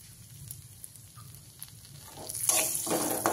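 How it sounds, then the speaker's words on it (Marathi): Ground almonds, cashews and poppy seeds go into hot ghee for modak filling. Quiet low rustling gives way to a louder sizzling hiss that swells over the last second, close and with no voices. "परतून घेऊया तुपामध्ये।"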